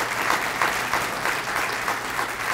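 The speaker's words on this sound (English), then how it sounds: "Another round of applause for our second Phoenix Award." Steady applause from an audience at a fire department awards ceremony honoring a life-saving rescue, dense continuous clapping throughout with no voices over it.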